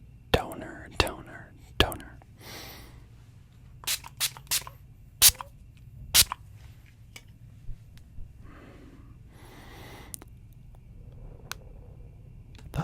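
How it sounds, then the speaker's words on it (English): Several short, sharp spray bursts from a cucumber mist toner bottle, spaced irregularly and close by, with soft whispery breaths and faint handling noises between them. "It is a cucumber spray mist toner."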